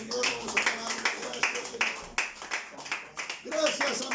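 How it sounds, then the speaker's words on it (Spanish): A church congregation claps in a joyful worship service, with irregular, moderately loud bursts of handclaps mixed with voices talking and calling out. "Vamos a un aplauso fuerte al Señor"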